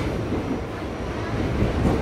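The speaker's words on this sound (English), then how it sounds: "I'm now on the train." A subway train ride in New York near Atlantic Avenue fills the car with a steady, loud rumble and wheel noise, continuous throughout with no clear voices.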